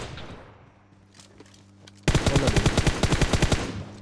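Video game gunfire, a loud rapid automatic burst of evenly spaced shots that starts abruptly after a quieter stretch of faint background sound, close and dominant.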